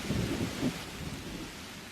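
A thunderstorm sound effect from a children's story, with a deep rumble of thunder rolling over steady heavy rain, loud and fading slightly toward the end.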